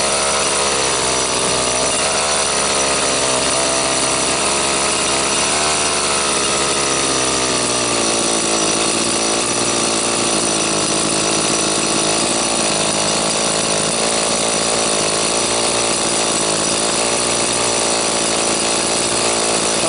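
A gas-powered TREX 600 RC helicopter engine idles while driving an IGEN generator, a loud, steady high-pitched buzzing drone that holds constant for about twenty seconds with no talking.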